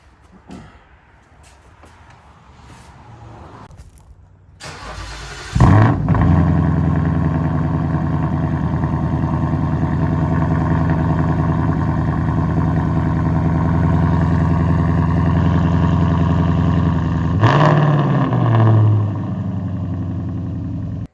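A Ford Mustang S550 with a Gen 3 Coyote V8 and longtube headers fires up after quiet rustling, then settles into a loud, steady, rumbling idle. A sharp rev flares near the end before it drops back to idle.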